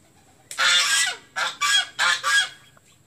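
Geese at a village farmyard honking in five loud, close bursts, one long call followed by four shorter ones in quick succession, with no talking.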